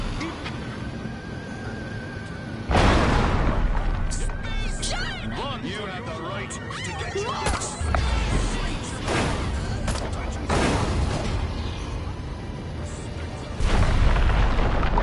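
Explosions tear through a town in the Destroy All Humans remaster, loud booming blasts at about 3, 8 and 14 seconds over a continuous rumble of crashing debris, with a voice talking over parts of the destruction.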